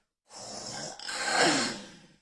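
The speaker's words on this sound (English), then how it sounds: "He breathes really loud." A person takes one loud, long breath up close. It is a drawn-out airy rasp that swells and then fades, alone in otherwise quiet surroundings.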